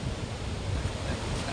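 Sea waves wash steadily along a provincial shoreline while wind blows across the microphone, making a continuous broadband rush with low rumbling swells, close and fairly loud throughout.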